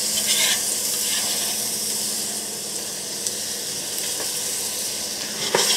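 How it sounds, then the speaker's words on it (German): Onions and garlic sweating in a little vegetable oil give a steady, close sizzle with occasional stirring scrapes and soft pops throughout, with no talking. "So, diese schwitzen wir an in ein etwas Pflanzenöl."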